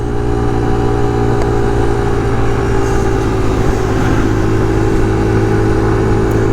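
A Kawasaki KLX 140 pit bike engine running steadily, a loud, close, continuous mid-pitched drone with little change in revs throughout.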